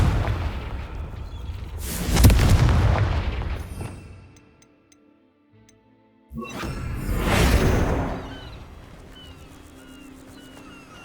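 A Confringo spell explosion in the video game Hogwarts Legacy: two loud whooshing blasts, each swelling to a booming burst and fading, with a quiet gap between them.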